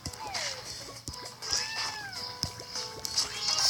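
Cartoonish cat meows from a cat evolution video game rise and fall in several quick, overlapping calls over a busy background of game noise.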